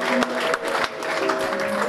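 A church congregation claps together during a sermon in a worship service, a dense burst of hand claps with crowd murmur and some voices mixed in.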